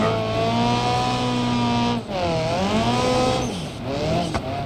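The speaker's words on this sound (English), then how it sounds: "the 4 cylinders sound a lot raspier now too" A four-cylinder rally car engine in the video game BeamNG.drive revs raspily, its pitch climbing and dipping through gear changes, with brief tire squeals and no voices.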